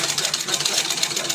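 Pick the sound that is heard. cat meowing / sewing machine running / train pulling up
sewing machine running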